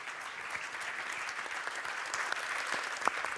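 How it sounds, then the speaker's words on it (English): A conference crowd claps steadily for speakers and panelists, a dense patter of applause at moderate distance with no voices standing out. "please give my speakers and panelists a very warm round of applause"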